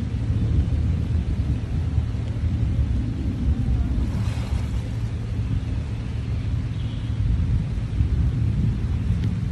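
Heavy rain and deep rolling thunder during a typhoon, a loud, dense, continuous roar with low rumbling throughout and no voices.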